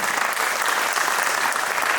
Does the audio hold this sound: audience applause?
yes